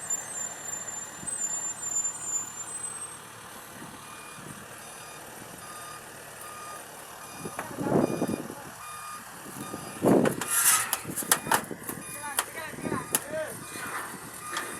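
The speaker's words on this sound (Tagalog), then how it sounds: "O, ayan, may dumating pa na truck." A truck backs in with steady reversing beeps sounding over a low engine rumble, while people talk nearby and louder clanks and knocks break in toward the end.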